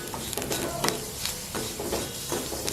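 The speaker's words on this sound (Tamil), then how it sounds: "பச்சை மணம் போக மாட்டோம், கொஞ்சம் வதக்குங்க" Chili powder and spices sauté in a pan, giving a soft sizzle broken by scraping stirs and light clinks of a spoon against the pan.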